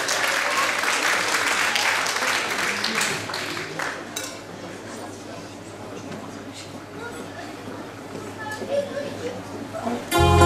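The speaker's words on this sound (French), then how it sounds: "on l'encourage, on l'applaudit." An audience claps for a singer at an outdoor singing contest at a festival in the Cévennes. The applause starts loud, gradually thins, swells briefly again near the end, and a voice speaks over it.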